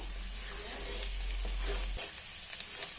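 Half a kilo of potatoes with fenugreek leaves fries in a pan over a gas flame, a quiet steady sizzle with a few soft stirring scrapes and clicks toward the end.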